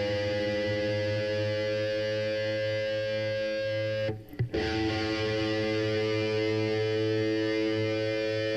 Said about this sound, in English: I have the distortion on right now.